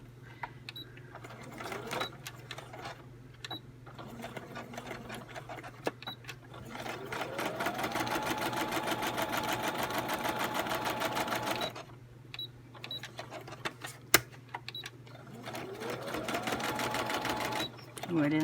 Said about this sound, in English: I'm just going to do it quickly at the machine here.